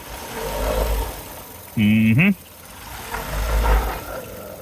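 A 1994 Ford Escort engine idling with a low, uneven rumble that swells and dips, interrupted by a short burst of speech partway through.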